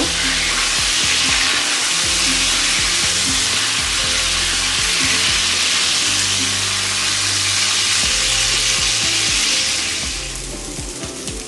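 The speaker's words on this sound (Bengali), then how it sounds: "এবারে আমি মিটবলগুলোকে ভেজে নিব মিটবলগুলোকে এভাবে আমি হালকা ভেজে নিব" Chicken meatballs fry lightly in hot oil, a loud, steady, close sizzle with occasional stirring clatter that fades somewhat toward the end.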